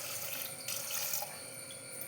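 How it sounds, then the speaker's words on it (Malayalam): Water pours steadily into a pressure cooker holding washed chickpeas, a close, continuous splashing stream lasting about two seconds. "പിന്നെ നികക്ക വെള്ളവും കൂടെ ഒഴിച്ചു കൊടുക്കണം"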